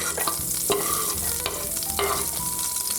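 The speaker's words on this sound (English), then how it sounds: "A little bit more oil. Cook the garlic" Garlic frying in oil in a pan, with continuous close sizzling and a few sharp clinks and scrapes of a utensil stirring against the pan, while prepared shrimp sit aside.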